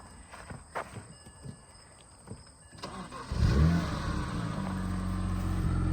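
A few faint footsteps and clicks, then a BMW E92 335i engine cranks and catches, settling into a steady, quiet, low idle close by.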